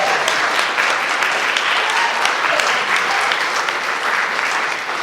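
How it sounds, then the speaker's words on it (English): Audience applause fills the room, loud and sustained, a dense even wash of many clapping hands that carries on without a break and eases off slightly near the end. "You can applaud if you want."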